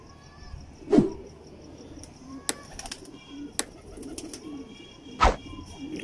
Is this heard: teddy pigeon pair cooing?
yes